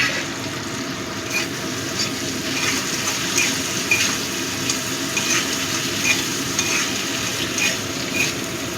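Chopped tomato hitting softened, browning onions in a hot pan for a Bengali mourola fish curry, a loud steady sizzle and crackle with stirring scrapes and bubbling, close and continuous, without speech.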